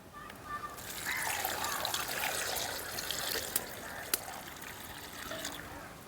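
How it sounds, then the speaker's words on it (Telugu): Water is poured into a cooking pot while making a toddy palm fruit recipe, giving a steady, soft splashing trickle that runs for several seconds at low volume. "కొద్దిగా నీళ్లు పోస్తున్నా."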